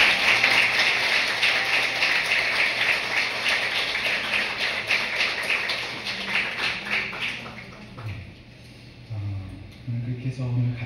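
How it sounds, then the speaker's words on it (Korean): Congregation at a Korean Friday evening church service applauding to bless a pastor's couple; dense, loud clapping that gradually thins and fades, giving way to scattered sounds and voices. "우리 박수로 축복하도록 하겠습니다"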